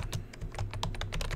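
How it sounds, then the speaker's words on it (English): Rapid typing on a computer keyboard, a quick irregular run of light clicky keystrokes close to the mic, with no voices. "I don't usually type during the show"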